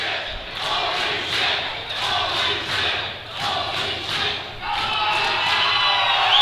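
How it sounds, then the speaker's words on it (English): A wrestling crowd cheers and roars loudly, the noise swelling and dipping in rhythmic waves of chanting and shouts before surging into a sustained roar, with no clear talk over it. "Crowd going bonkers as Kenny once again delights this crowd with"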